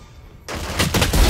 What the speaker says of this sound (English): I'm just ripping scout shots into this fucking wall.